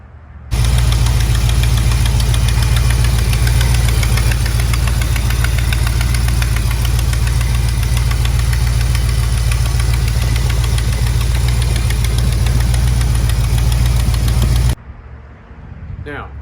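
A Mopar B-body big block V8 in the General Lee idles with a steady, loud rumble and a rapid ticking from a leaking exhaust flange gasket, running continuously close by before cutting off near the end.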